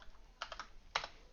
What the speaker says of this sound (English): So I will type in volume.